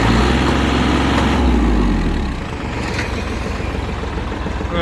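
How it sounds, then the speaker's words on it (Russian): An ISEKI SIAL23 tractor fitted with a soil tiller runs at high revs, around 2500 rpm, giving a loud, close, continuous engine drone whose low rumble eases slightly partway through. "Я думаю, слышно, крутится сумасшедший двигатель быстро"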